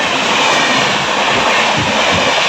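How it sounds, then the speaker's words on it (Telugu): A superfast train rushes past a moving passenger train on the Rajahmundry–Bhimavaram line, a loud, steady roar and rumble of wheels that fills the whole moment without a break. "ఇది మన ట్రైన్ ఇప్పుడే ఒక train super fast cross over చేసింది"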